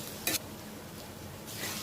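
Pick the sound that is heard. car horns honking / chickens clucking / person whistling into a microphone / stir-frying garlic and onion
stir-frying garlic and onion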